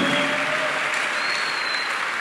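A church congregation breaks into steady, dense applause during a teaching service, loud and close, continuing evenly throughout with no pauses.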